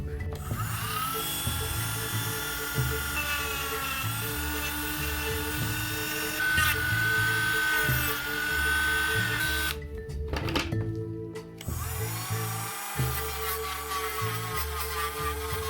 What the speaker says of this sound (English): now that I've got most of the subtractive sculpting done with the Dremel